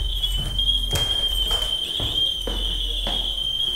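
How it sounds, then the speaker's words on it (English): A house smoke detector beeps continuously and loudly in a high pitch, with broadband thumps and some indistinct voice activity underneath. "The smoke detector that's going crazy there"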